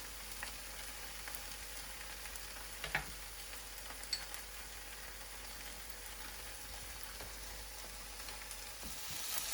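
Spices stirred with onion and tomato in a pan for rajma curry, a soft continuous sizzle of frying with a couple of faint utensil taps, low and steady with no talk.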